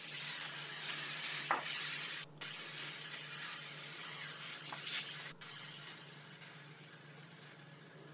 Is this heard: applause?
no